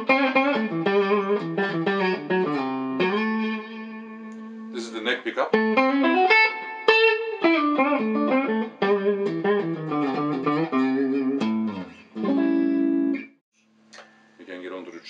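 Clean electric guitar, a 1965-66 Gretsch Tennessee Rose with no effects, playing a melodic solo line, bending and sustaining notes with quick runs, loud and close, no other sounds.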